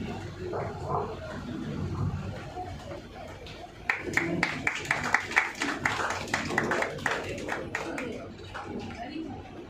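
Audience applause at a Tamil astrology trust's triple-celebration function in Trichy, a patchy burst of claps building from about four seconds in, with talk and murmuring underneath throughout.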